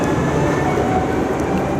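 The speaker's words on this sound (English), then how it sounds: "There goes the train." A train rolls through a Dutch railway station, a loud steady rumble and rattle of wheels on track close by, continuous across the whole moment.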